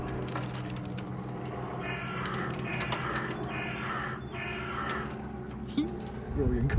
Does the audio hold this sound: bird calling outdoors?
yes